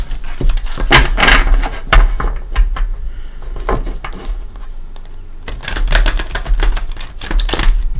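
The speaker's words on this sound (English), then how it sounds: "give it a couple shuffles" Tarot cards are riffled and tapped together in quick bursts, crisp rapid clicks followed by short pauses, heard up close with no talking.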